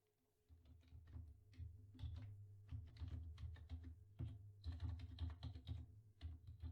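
Steady clicking keystrokes on a computer keyboard while an email address is entered, a close, continuous run of taps with short pauses and no talking.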